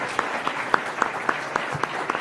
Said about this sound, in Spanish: Lo recibimos con fuertes aplausos a Carlos Tobar Sanamés.